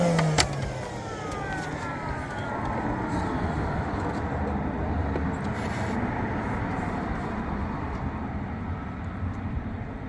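A Sparx ES200 skate sharpener motor runs steadily but seems to struggle to reach full speed, giving a continuous, fairly loud whirring drone with a brief rising whine at the start and no talk.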